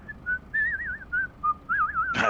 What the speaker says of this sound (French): Donc d'un moment, vous entendez siffler.